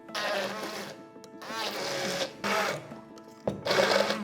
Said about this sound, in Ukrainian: Припущену моркву перетираємо блендером.